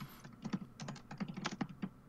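Rapid clicking of a computer keyboard during a live podcast, close and fairly loud, with irregular bursts of keystrokes and no voices over them.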